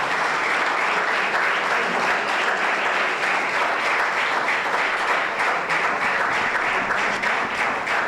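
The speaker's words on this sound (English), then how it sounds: "So have a big round of applause for this endeavor." An audience claps in a big round of applause at a celebration marking thirty years, dense and sustained throughout with no talk over it.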